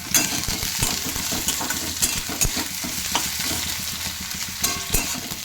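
Vegetables sizzle and fry in a nonstick pan, a steady close crackle broken by the repeated scrape and clatter of a utensil stirring against the pan.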